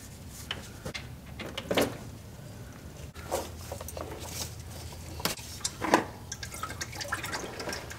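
Engine oil from a Duramax diesel drains into a drain pan below, with close, irregular drips and liquid splashes and a few soft clunks.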